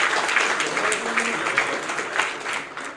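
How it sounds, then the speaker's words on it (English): An audience claps loudly and continuously at a youth forum of young lawyers, a dense, sustained round of applause close by throughout. "a round of applause for Honorable Sajith Premadasa"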